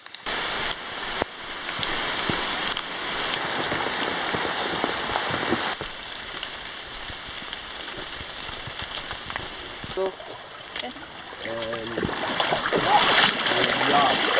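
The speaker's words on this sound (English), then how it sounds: "It's raining" Steady rain falls in the Belize jungle at Stann Creek, a dense continuous hiss of drops on leaves and surfaces, close and loud throughout with brief faint voices near the end.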